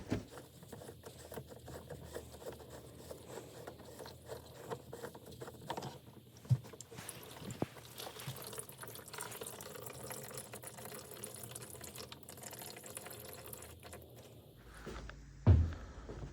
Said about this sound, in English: So once I remove this, I should be able to empty out whatever fuel is left in there.